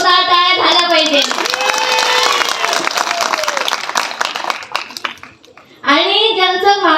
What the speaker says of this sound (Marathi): स्वतःसाठी एकदा जोरदार टाळ्या झाल्या पाहिजे